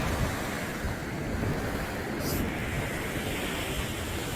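Steady ocean surf rolls and washes along the East Sea shore, a continuous broad roar with gentle swells and some wind buffeting, with no voices.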